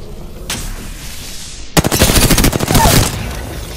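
Enemy gunfire in Apex Legends, a faint shot followed by a dense, loud volley of rapid automatic fire lasting over a second, near and intense, with some background game noise.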